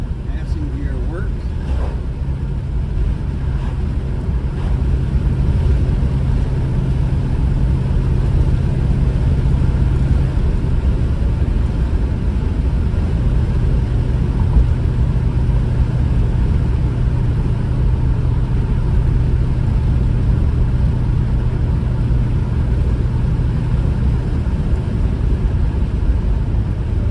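A V8 Falcon car with a shift flare in third gear drives in passing gear, a loud, steady low engine drone with a humming tone that holds throughout.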